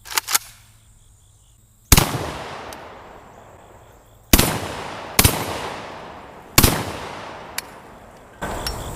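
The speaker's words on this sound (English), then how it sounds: "I'm going to do 1 shot for pattern and put the rest of them in the steel plate." A JTS M12AK semi-automatic shotgun fires number 4 buckshot at a steel plate outdoors, giving about five loud, separate booms spaced a second or two apart, each with a long echoing tail, plus a few faint metallic clicks.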